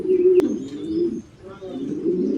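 Blue pouter pigeons in a loft cooing, low droning coos in two phrases with a short pause between, close by, with a faint chirp and a single sharp click early on.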